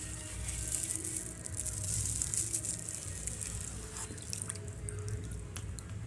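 Boiling water is poured onto a greasy kitchen chimney filter, making a quiet, close trickle with scattered drips and light rattling, with no voices.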